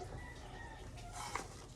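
Chickens clucking faintly in the distance outdoors, a few thin calls over a steady background hiss.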